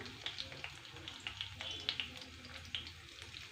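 Mustard seeds frying in hot oil for Telugu-style cucumber dal make a faint, steady sizzle with small pops and spits scattered throughout.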